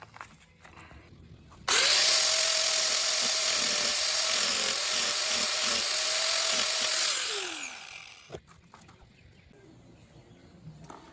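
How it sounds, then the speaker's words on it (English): Grinder wheel cutting into a Tesla Model S battery module, a loud, high, steady whine starting abruptly and running about six seconds before spinning down, alone with quiet handling noises around it. "the grinder wheel was getting a little out of control"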